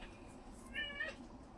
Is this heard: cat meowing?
yes